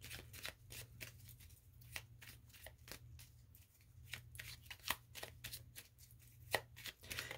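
Tarot cards are shuffled steadily, a run of quick riffling flicks and soft slaps close to the mic over a low steady hum, with a few sharper snaps standing out and no talking.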